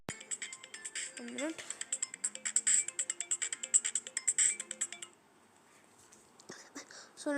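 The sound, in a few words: phone ringtone from incoming call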